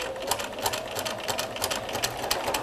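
Sewing machine stitching bias binding around the corner of a fabric notebook, a fast steady mechanical chatter close up with no voices.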